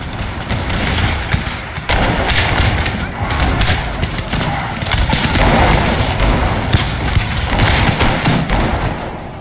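Artillery fire in an Empire: Total War battle at Quebec, a dense, loud wall of booming thuds and rumbling impacts running continuously throughout.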